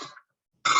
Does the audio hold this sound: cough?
yes